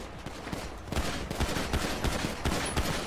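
Rapid gunfire from police in a GTA roleplay game, a dense burst of repeated shots continuing for a few seconds, loud and close with no talk over it.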